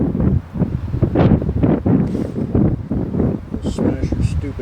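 Wind gusts outdoors at a ranch where an arched cabin is being built, buffeting the microphone with a continuous low rumble while a person talks over it.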